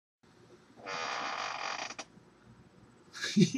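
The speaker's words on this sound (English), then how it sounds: "That squeaky chair." A squeaky chair creaks loudly for about a second, a sustained rasping squeal, followed by a short creak and quiet shuffling.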